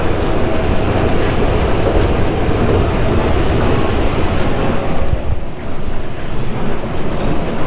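A loud, steady rumble of a Chongqing subway train running, with dense low roar and rattling throughout, slightly easing near the end.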